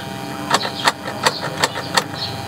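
A car with a suspected shorted or drained battery is cranked at start-up. Five sharp, evenly spaced clicks or cranks repeat about three times a second over a steady mechanical drone.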